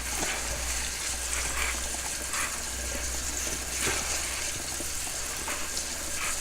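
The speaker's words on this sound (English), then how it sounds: "the strainer and spray them down with cold water" Cold water sprays steadily over grapes held in a strainer, a soft constant hiss and patter at moderate distance with faint low hum beneath and no speech.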